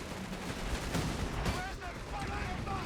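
Anti-tank gun shots and a mine blast in Company of Heroes 3: a cluttered run of thumping battlefield booms and gunfire under a caster's excited commentary.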